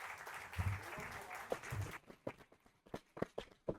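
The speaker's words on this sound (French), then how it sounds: "On l'applaudit." Audience applause at a live startup pitch competition, a dense burst of clapping for about two seconds that thins into scattered, separate claps.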